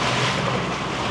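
A motorboat cruises on Lake Garda, its engine drone blending into a steady wash of wind and water rushing past, loud and continuous with no voices.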